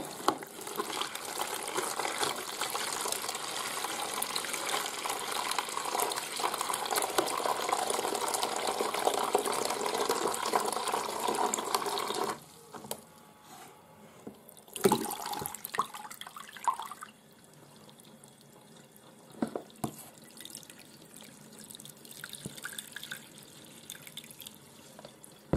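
Tap water runs steadily into a sink as solar-dyed fabric is rinsed, a full rushing stream for about twelve seconds, then quieter splashes, drips and handling of wet cloth close by.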